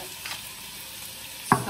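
Sausage balls fry with onion in a pan under a soft, steady sizzle, and a single clear clink of the stirring utensil comes near the end.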